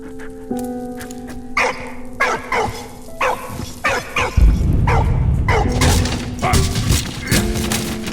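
Dog barking in the World War I game Valiant Hearts: The Great War, a run of sharp, evenly spaced barks up close over steady game music, then the barks continue under a louder, rumbling din of battle noise.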